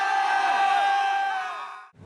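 About seventy people at a training camp, holding a rubber boat over 100 kg above their heads, let out a loud, sustained collective war cry that swells and then fades within about two seconds.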